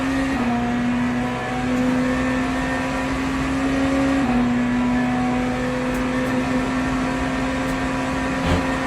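A hypercar engine in a racing video game drones loud and steady on track, its pitch holding and then shifting once midway, as if through a gear change, with no talk over it.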